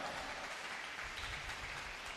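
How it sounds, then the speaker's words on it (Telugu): A church congregation claps hands loudly and together, a dense, steady wash of applause that fills the whole moment without pause. "కొట్టండి చప్పట్లు గట్టిగా"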